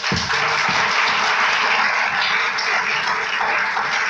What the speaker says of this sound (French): Acclamons très fort notre Dieu